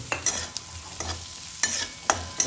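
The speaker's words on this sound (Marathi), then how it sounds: "आपला कांदा तर परततोय थोडाफार परतला आहे" Onion and potato pieces are stirred in a frying pan, with the spoon scraping the metal rhythmically over a soft sizzle of oil.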